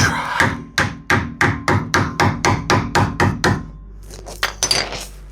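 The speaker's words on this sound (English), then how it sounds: "you can use a piece of wood and a hammer and gently tap it into place" A hammer strikes a piece of wood to tap a Kia Sedona suspension strut onto a bolt, a steady series of about a dozen close, dull thumps, then a few irregular knocks and clatters.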